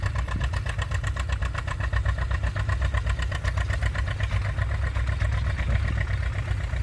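A John Deere tractor engine idles steadily at a tractor and engine show with a low, even chugging rumble, continuous and fairly close, with no voices.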